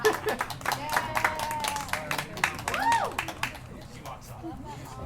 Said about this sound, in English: Applause break, good.